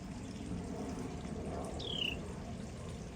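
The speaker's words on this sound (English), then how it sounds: "I've got a couple of water features, so I have the sound of water all the time" Water from a backyard garden water feature trickles in a steady, even wash, with one short bird chirp briefly rising above it midway.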